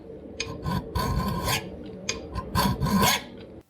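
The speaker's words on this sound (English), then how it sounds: "He tried filing it." Rasping strokes of a metal file against a hard piece of rhenium metal, several loud back-and-forth scrapes in two bursts, close up and alone.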